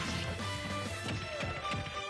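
Smash attacks connect in a Super Smash Bros tournament match between Mario and Mega Man: a rapid flurry of crunching, crashing impacts layered over busy, constant game music and effects, loud and dense throughout with no voices.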